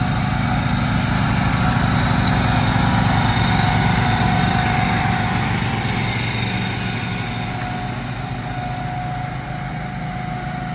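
A lawn mower runs steadily nearby, mowing leaves onto gravel, giving a loud, continuous buzzing engine drone that fades slightly toward the end.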